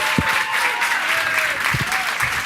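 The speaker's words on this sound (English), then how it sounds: "Let's give a round of applause." An audience applauds at a live-streamed spotlight show, dense steady clapping filling the room while a few brief voices and low thumps break through now and then.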